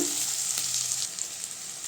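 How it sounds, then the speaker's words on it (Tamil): Onions sauté in a pan for a Tamil paruppu keerai koottu, giving a steady, soft sizzle and crackle with no voices. "வெங்காயம் சேர்த்துக்கலாங்க வெங்காயம் நல்லா வதங்கட்டுங்க"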